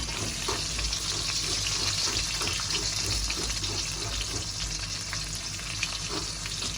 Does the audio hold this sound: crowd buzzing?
no